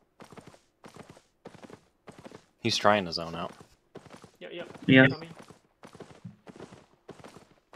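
Galloping horse hooves from the game Albion Online clatter in a steady rhythmic clip-clop, moderately loud, alongside bursts of in-game combat noise and with players talking over them.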